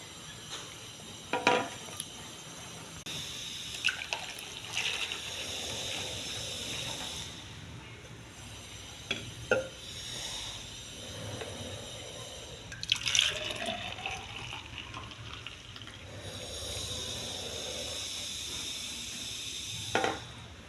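Water splashes and trickles steadily as it is poured into fresh grape juice, broken by a few sharper drips and splashes, close by with no talking.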